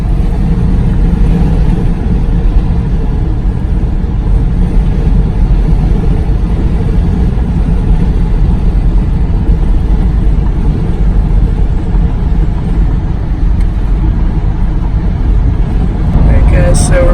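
A van drives on the road with a continuous low engine rumble and road noise, loud and steady from start to finish.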